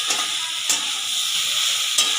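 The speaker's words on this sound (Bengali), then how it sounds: "এবার আমি ভাজা কুমড়োটা, বেগুনটা আর বড়িগুলো দিয়ে ভালো করে মিশিয়ে নেব।" Fried pumpkin, eggplant and lentil dumplings are stirred together in a hot pan, giving a steady close sizzling hiss with two sharper scraping strokes and no talking.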